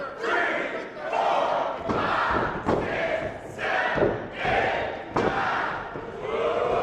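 A pro wrestling crowd in Collinsville chants a rhythmic count in unison, about seven loud shouted beats punctuated by thuds from the ring.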